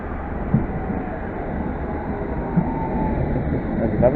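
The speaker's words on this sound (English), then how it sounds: "it's going to be a London Underground Met Line service to Watford" London Underground Metropolitan line train to Watford, train 1077, rumbling steadily through Pinner station, a continuous low mechanical drone with faint wheel clatter and brief metallic clicks, fairly loud and close, with no talking.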